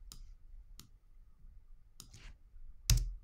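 Mouse clicks during Photoshop editing work, four sharp isolated clicks spaced across the moment, the last one louder and closer, with no talk over them.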